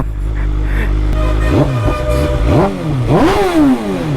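A superbike engine idles loudly up close, then is revved hard several times, each rev climbing and falling back, with a clattery mechanical edge.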